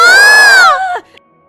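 A woman's scream in an animated Hindi horror story, one loud piercing high-pitched shriek lasting under a second, then cut off into near silence.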